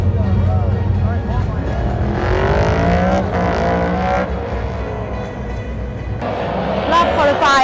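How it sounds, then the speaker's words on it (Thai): NASCAR stock cars race on a tight temporary track at the Los Angeles Coliseum, their engines rising and falling in pitch as packs roar past, under someone talking throughout. "สนามก็แคบแล้วดูดิเบียดกันนิดเดียวแล้วรถก็แข่งกันทีโหเป็น10 20คันเลยนะคะ"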